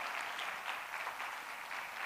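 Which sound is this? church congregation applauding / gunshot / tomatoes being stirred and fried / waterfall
church congregation applauding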